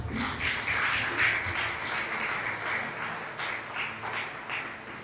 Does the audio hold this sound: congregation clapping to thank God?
yes